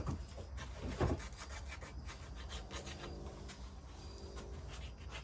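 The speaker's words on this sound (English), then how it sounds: "now I like to gently hit the edges with a little bit of sandpaper" Sandpaper of 100 grit rubbing along wooden edges in a quiet, steady, close rasp, with a slightly stronger stroke near the start.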